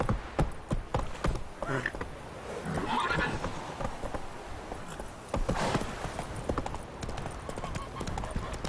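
Horse hooves clip-clopping in the video game Witcher 3, a quick, uneven run of sharp hoof strikes, loud and close, with a horse whinnying partway through.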